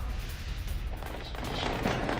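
Security forces fire on protesters at night in Tehran's Yaftabad district, a dense, rumbling barrage of distant gunfire and booms that swells and grows louder toward the end.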